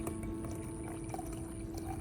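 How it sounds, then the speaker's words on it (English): Boiling water pours steadily in a quiet, continuous trickle and splash, close by, with a faint hum in the background. "Then pour in 1 liter of boiling water and stir gently"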